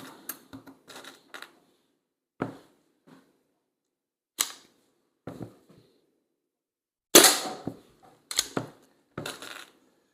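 An SMK Victory CP2 .177 CO2 air pistol fires pellets at cans, producing several sharp, snappy shots and metallic ticks scattered irregularly through otherwise quiet surroundings.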